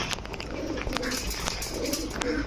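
Pigeons for sale in a pigeon shop, including fancy breeds such as teddy and racer, coo repeatedly in soft, overlapping rumbling calls close by, with scattered chirps and light shop noise in the background.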